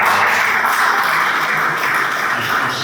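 Audience applause at a press conference for the Ofala 2025 festival, a steady, dense wash of clapping from a sizeable crowd that holds evenly loud for the whole stretch with no pauses.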